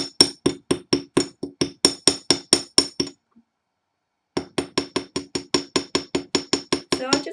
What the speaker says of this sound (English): So I'm just hammering it to flatten it.